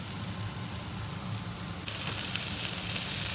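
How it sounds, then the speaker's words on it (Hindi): Beef burger patties fry steadily in a pan, a continuous close sizzle and crackle that grows slightly louder partway through, with no voices. "अब हम इनकी टिक्कियाँ बनाएंगे और इनको हम फ्राई करते हैं।"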